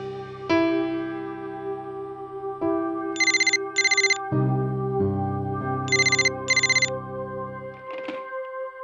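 A phone rings in two short double bursts, separated by a pause, over steady background music.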